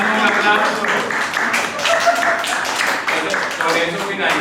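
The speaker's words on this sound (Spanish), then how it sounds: "vamos a darle un aplauso" An audience applauds at the close of a Caribbean dance and percussion workshop, a dense wash of clapping at steady loudness for several seconds with no speech over it.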